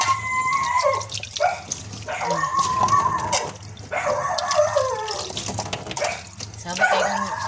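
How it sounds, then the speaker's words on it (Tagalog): A weak trickle of water runs from a tap into a sink, steady but thin, with a person talking over it and a dog howling faintly at times. "Hinay ang tubig guys."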